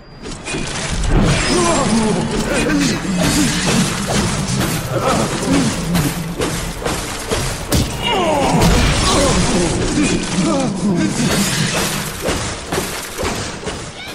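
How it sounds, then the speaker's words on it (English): Wrench blows land on a frozen enemy in BioShock, a video game, with a rapid series of loud, close thwacks and icy shattering crunches, repeating throughout over game noise. "just wailing on him with my wrench"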